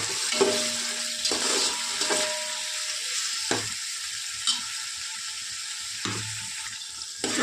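Onions and tomatoes fry in a pan for Sunday mutton biryani, with a continuous sizzle broken by scraping stirs and a few clanks of a utensil against the pan.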